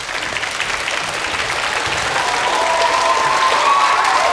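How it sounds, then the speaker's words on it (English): A studio audience at a live comedy show applauds steadily, a dense clapping wash that builds slightly in loudness, with faint whoops over it. "give our guests from last time, the Thought Cops, a round of applause"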